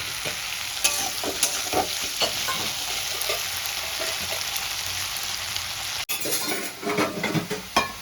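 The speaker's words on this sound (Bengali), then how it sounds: "নুন আর হলুদ দিয়ে এবার আমি আলুটা ভালো করে ভেজে নেব।" Potatoes frying in oil with salt and turmeric, stirred steadily in a pan, giving a continuous close sizzle with scraping clinks of a utensil and a brief pause near the end.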